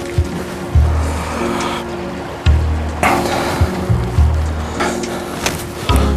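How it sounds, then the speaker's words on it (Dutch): Flowing stream water near a watermill in the Oisterwijk countryside, a steady close rushing wash with several louder surges and splashes, no talking over it. "Water."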